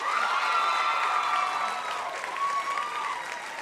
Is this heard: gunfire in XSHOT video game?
no